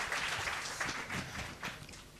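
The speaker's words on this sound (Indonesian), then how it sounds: "Berikan tepuk tangan buat Tuhan kita yang panjang." A church congregation claps together during a worship service, a dense, continuous wash of applause at moderate loudness that holds steady for a couple of seconds.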